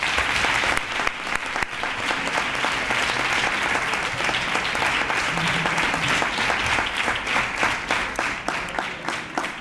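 A crowd at a Three Kings proclamation and crowning ceremony in Nerva applauds loudly and steadily for the whole stretch, a dense rattle of many hands with some crowd noise mixed in.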